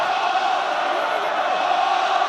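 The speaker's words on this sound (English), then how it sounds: "What a roar from this crowd here." A big stadium crowd at an Ulster versus Scarlets rugby union match roars in a loud, sustained wall of cheering that holds steady from start to finish with no clear voices above it.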